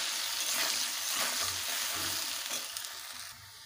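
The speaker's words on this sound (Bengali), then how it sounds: "আলুটাকে ভালোভাবে ভেজে নেব" Potato pieces seasoned with salt and turmeric frying in hot oil in a pan, a continuous close crackling sizzle with a few stirring scrapes, fading slightly near the end, no voices.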